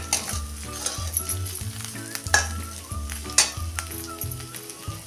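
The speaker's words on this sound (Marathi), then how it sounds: "असा बारीक मोठा तुमच्या आवडीप्रमाणे फोडून तेलात परतून घ्यायचा आहे। असा मिनिटभर परतूया।" A crushed ingredient sautés in oil over a low gas flame, giving a soft steady sizzle close by, broken by a few sharp pops and stirring clicks.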